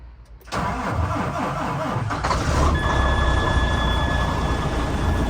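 A cold freight truck engine at about minus four degrees catches after a hard start and settles into a loud, steady idle close by, with a faint whine rising partway through.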